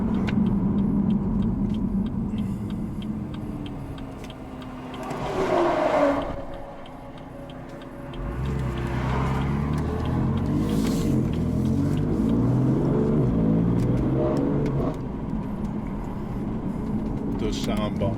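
BMW M3 engine in Sport Plus mode, a low rumbling drone that swells as the car accelerates through a right turn on a road, heard from inside the cabin with people talking over it.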